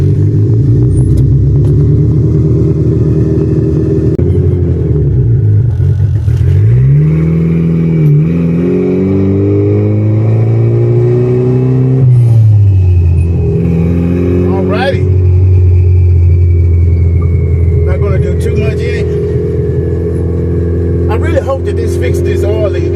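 Honda Civic EF takes a short drive after an oil leak repair, its engine droning steadily from inside the cabin and rising and falling through several revving gear changes, loud and continuous throughout.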